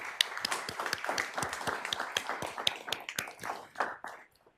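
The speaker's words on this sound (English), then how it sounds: "we want to give her a round of applause" A small crowd claps steadily for a few seconds, the applause thinning out and fading to quiet at the end.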